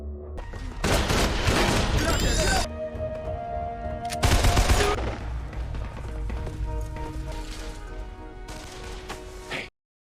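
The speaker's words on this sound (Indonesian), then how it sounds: "Aksi baku tembak pun terjadi." Gunfire exchange in the TV series Defiance, heavy bursts of rapid shots and thuds under music and effects, loud and dense at the start and again midway before cutting off.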